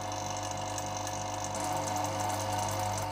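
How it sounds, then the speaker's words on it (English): A vacuum pump runs with the valve closed, pulling full vacuum on a chamber used to stabilise wooden knife scales with resin. It gives a steady close mechanical hum with a faint rapid pulsing rattle that stays constant throughout. "I'm now able to leave the valve fully closed and allow the pump to pull a full vacuum"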